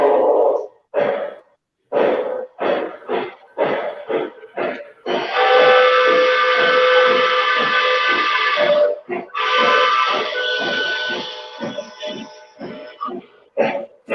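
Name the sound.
steam locomotive whistle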